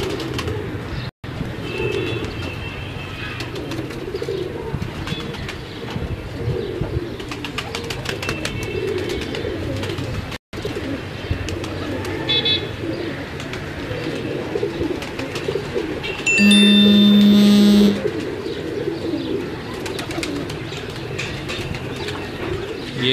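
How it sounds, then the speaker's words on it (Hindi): Pigeons cooing and calling on a rooftop loft where a small flock is kept with young chicks, a steady outdoor wash of bird sounds with a brief louder burst near the end. "ये कुछ कासत कबूतर भी हैं अपने पास।"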